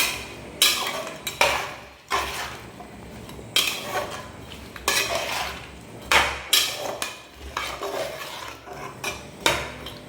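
A spoon scrapes and clatters against a metal pot in repeated uneven strokes as spices are stirred for bisi bele bath, close by, with no one talking.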